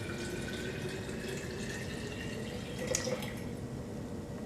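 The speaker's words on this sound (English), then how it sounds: "you want to add your filtered water" Filtered water pouring steadily into a jar of packed cabbage being prepared for fermenting, a continuous close, even splash and trickle with a slight swell near the end, no voices.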